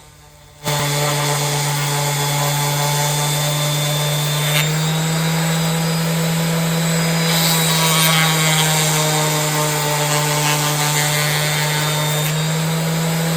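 A steady, loud motorized whine of a DEKO orbital sander sanding cedar, running continuously with a constant low hum and gritty friction noise throughout.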